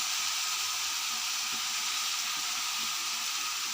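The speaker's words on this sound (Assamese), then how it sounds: "দাইলখিনি ভালকৈ ভাজি ল'ম।" Dal frying in a pan after potatoes have been fried, giving a steady, even sizzle and hiss that carries unbroken throughout, fairly quiet and close with no voices.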